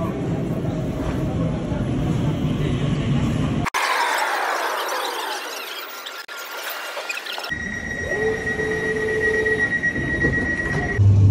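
A London train rolls into Forest Gate station with rumbling and high squealing wheels, followed by a sharp hiss and clatter as it slows, with muffled announcements under the noise.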